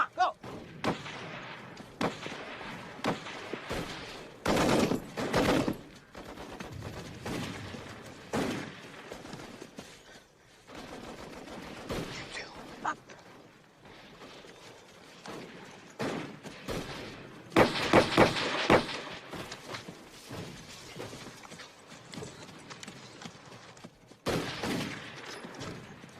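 Bursts of machine gun and rifle fire in a World War I video game battle, dense rattling volleys with heavy thuds and blasts that swell and fade across the scene.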